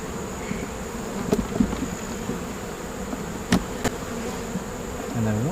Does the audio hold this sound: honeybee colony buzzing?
yes